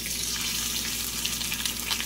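Surf perch fillet frying in about a tablespoon of olive oil in a pan, a steady, even hiss and crackle of sizzling that runs unbroken and fairly close throughout.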